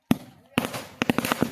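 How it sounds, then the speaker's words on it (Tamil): Lakshmi firecrackers bursting at a Diwali celebration: a string of sharp, loud bangs close by, a single crack first, then a pause and a rapid uneven burst of pops, with faint voices underneath. "நம்ம அதுக்குள்ள ஒரு பாக்கெட் லட்சுமி வெடி போடுவோம்."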